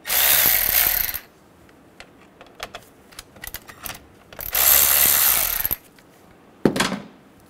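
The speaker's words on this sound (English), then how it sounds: "Using a 10mm socket, loosen the negative and positive battery terminals." Ratchet with a 10mm socket loosening the battery terminals on a 2011-2014 Hyundai Sonata: two long bursts of rapid clicking, with short taps and clicks in between and a final quick burst, close and clear, no talking.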